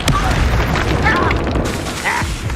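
Confringo fire spell blasting in Hogwarts Legacy, a dense booming burst of explosive noise that rolls on for a couple of seconds, with faint chirping effects layered on top.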